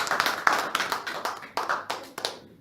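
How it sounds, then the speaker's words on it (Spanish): A church congregation clapping loudly during worship, a group of hands hitting in a fairly regular pulse of sharp, close bursts that taper off at the end, with no voices over it. "Dale un aplauso fuerte al Señor"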